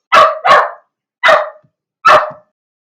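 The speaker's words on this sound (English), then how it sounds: "Sorry, Atlas the puppy is on the other side of the door." A puppy barks from the other side of a door: two quick barks back to back, then two more single barks spaced apart. The barks are loud and sharp, with silence in between.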